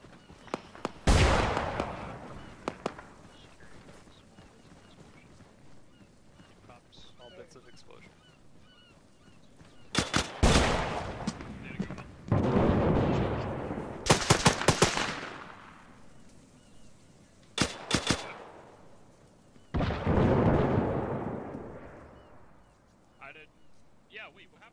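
Gunfire in the Arma 3 video game during an infantry operation, with several loud bursts and single reports spread irregularly through the stretch, some shots sharp and close, alternating with people talking over radio chatter.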